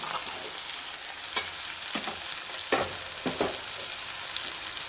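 Beans sizzling steadily in hot oil in a pan for a bloated beans tomato curry, a constant crackling hiss broken by several sharper scraping stirs, close and moderately loud with no talking.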